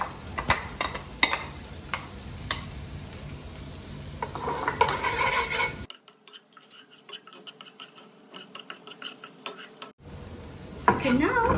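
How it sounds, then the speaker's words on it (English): Onion tossed into a pan with browned ginger, frying and stirred with a utensil: a steady sizzle with scraping clinks, broken by a quieter stretch midway. "now it's time to put our onion in"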